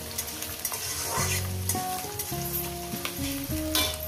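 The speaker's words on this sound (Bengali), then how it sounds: "পেঁয়াজ কুচোটা দেওয়ার পর আমি এটাকে 2-3 মিনিট একটু ভেজে নেব" Chopped onion sizzles and fries steadily in a pan for a spicy Bengali loitta fish curry, with a spoon stirring through it and a few scraping strokes against the pan. The sizzle runs continuously and loudly, with no talking.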